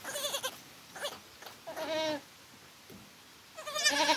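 A mother goat on a Philippine backyard farm bleats in several separate cries, with short wavering calls early and a louder, longer bleat near the end, fairly close and with no one talking.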